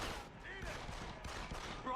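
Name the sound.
shotgun fire in video game Deus Ex: Human Revolution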